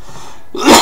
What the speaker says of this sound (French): Pardon, toujours cette toux.